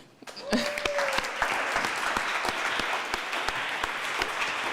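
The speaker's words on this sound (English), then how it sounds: "let's give him one big round of applause" A conference audience at a closing panel bursts into a sustained round of applause, dense clapping that starts abruptly and holds steady, with a few voices and a brief tone beneath.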